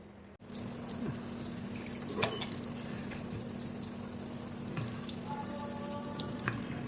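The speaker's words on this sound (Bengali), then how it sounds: "মুখ ধোয়া হয়ে গেল" Tap water runs steadily into a sink while someone washes their face, a continuous close splashing hiss with small drips and knocks, no talking.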